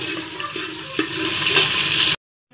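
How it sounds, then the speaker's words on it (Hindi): Onions fry in oil in a pan for vegetable biryani, giving a steady close sizzle with a few light stirring clicks. The sound runs for about two seconds, then cuts off into silence. "ब्राउन करेंगे प्याज"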